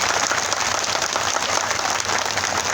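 A large crowd at an outdoor BJP election rally claps hard and continuously, a dense wash of applause throughout with no voice heard.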